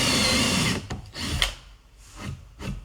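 A 9 mm bit drills a hole, starting as a loud continuous whine of the power tool for under a second, then giving way to several short rubbing bursts as the bit bites in and the drill stops.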